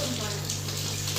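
A kitchen tap runs in a steady, continuous gush while dishes are washed, a close hiss of flowing water with no breaks and a low mains hum underneath.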